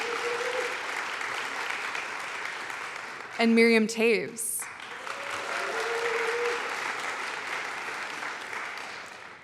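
Steady audience applause fills a book awards ceremony, broad and sustained, briefly broken midway by a presenter's amplified voice announcing a name before the clapping carries on.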